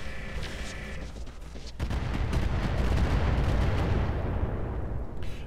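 Heavy weapons fire from battle mechs in the Roguetech mod of the BattleTech video game: dense, continuous rumbling volleys and blasts that grow louder partway through and stay sustained, with no talking.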